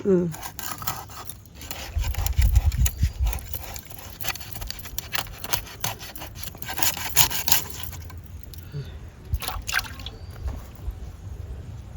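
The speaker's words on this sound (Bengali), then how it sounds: "খাড়াইতে করে ঘষে ঘষে মাছ দিয়েছে আর মাছ কি সুন্দর পরিষ্কার হয়ে গেছে" A rohu fish from a garden pond is rubbed and scraped clean in a container. Irregular bursts of close, gritty rubbing and scraping mix with soft knocks and wet patter throughout.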